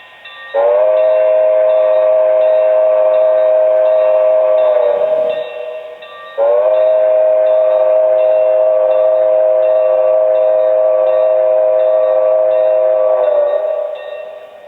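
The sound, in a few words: model train locomotive whistle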